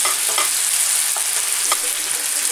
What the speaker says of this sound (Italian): diamo una mescolata e facciamoli cuocere giusto il tempo che cuoce la nostra pasta